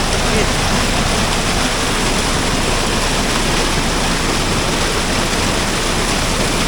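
Strong, steady rush of a river flowing during heavy rain in San Pablo City, Laguna, a dense, unbroken roar of water that fills the whole stretch from start to finish with no talk over it.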